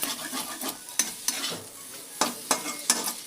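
Potato poriyal being sautéed in a pan, made without tomato or onion: a steady sizzle broken by sharp, repeated scrapes and knocks of a spoon stirring, close and fairly loud, with no talking.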